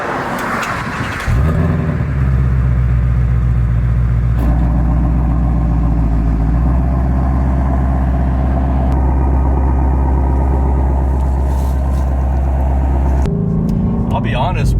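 A Ford Shelby GT350 with its exhaust resonators still fitted starts up after a second and settles into a loud, deep, rumbling idle with slight rev shifts, while someone talks over it.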